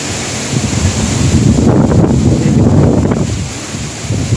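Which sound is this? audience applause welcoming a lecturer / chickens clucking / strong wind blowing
strong wind blowing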